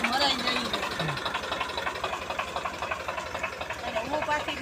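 A tractor engine running, a steady, close low chugging beat that throbs evenly throughout, with voices faintly audible over it.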